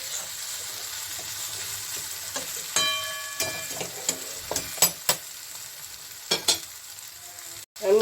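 Spring onion stalks fry in a pan with a steady soft sizzle as water is sprinkled in, bringing a few sharp spits and crackles and the scrape of stirring over the hiss.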